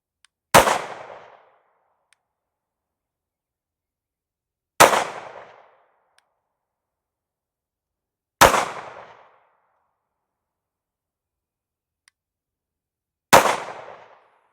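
Four sharp, loud 22 WIN Mag rifle shots ring out outdoors, each a single crack with a short decaying tail, spaced several seconds apart with silence between them and no voices.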